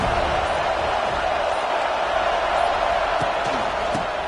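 A stadium crowd at a Florida State football game sends up a steady, dense roar of cheering and noise throughout, with a broadcast voice faintly underneath.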